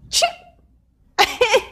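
A single close sneeze, followed by a brief pause and then a short burst of voice.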